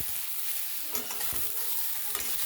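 Chinese noodles and vegetables stir-fry in a wok, a constant sizzling hiss broken by irregular scraping and tossing clatters as the food is stirred, close and moderately loud with no talking.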